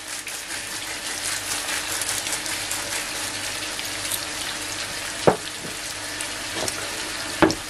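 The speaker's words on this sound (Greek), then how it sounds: "Θα ρίξουμε τις πατάτες μας και θα αφήσουμε να τηγανιστούν." Potatoes fry in a pan of oil, a steady dense sizzle and crackle running throughout, punctuated by a couple of sharp clinks or taps near the end.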